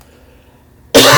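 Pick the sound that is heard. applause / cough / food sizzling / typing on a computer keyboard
cough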